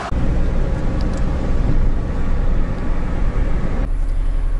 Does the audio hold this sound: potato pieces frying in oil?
no